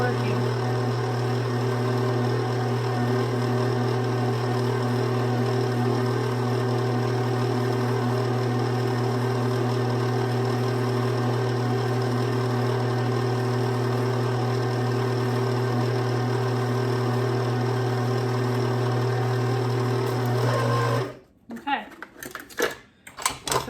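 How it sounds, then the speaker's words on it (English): A stand mixer motor strains as it beats tea cake cookie dough, a steady loud hum and whir that holds for about twenty seconds before cutting off abruptly into a few clunks. "The motor is working."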